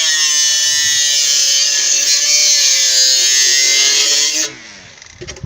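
A homemade Makita-style grinder built from a blender motor runs with a loud, steady high-pitched whine, close by, that cuts off abruptly near the end, leaving faint noise.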